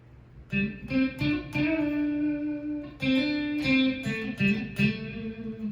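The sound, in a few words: electric guitar played clean with split neck pickup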